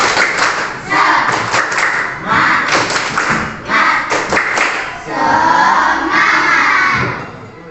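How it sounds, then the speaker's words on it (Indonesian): A class does tepuk semangat, the rhythmic spirit clap, in loud bursts of patterned claps and thumps separated by short pauses, with children's voices shouting along between the clapping phrases. "menambah semangat kita tepuk semangat dulu. Tepuk semangat."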